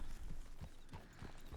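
Horse hooves clip-clopping in the video game Red Dead Redemption 2, a steady rhythm of soft, muffled thuds over a low background rumble, heard alone without talk.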